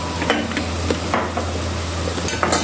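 Onions fry toward golden in a pot for a quick chana biryani, an even, dense sizzle over a low hum, with occasional stirring scrapes near the start and end.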